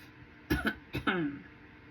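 Two short, close coughs a half second apart, dry and throaty, with no other sound around them.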